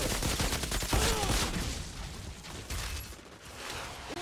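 Gunfire from the Outriders video game: dense, crackling bursts of shots and impacts at moderate, steady loudness, somewhat distant and mixed with game ambience, with no speech.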